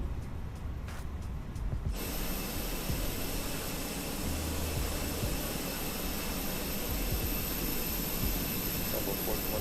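Jet engines of an Airbus A319 in a flight simulator game spool up for the takeoff roll, a loud, steady roar and whine that rises sharply and then holds.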